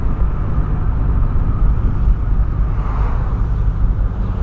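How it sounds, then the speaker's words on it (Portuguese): A VW Polo fitted with a sport exhaust gives off a loud, deep, steady droning rumble close by, with no talking over it. "tem a opção aí de pisar e o bagulho estralar no barulho mesmo"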